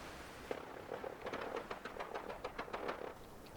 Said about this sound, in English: Lots of gunfire in the distance.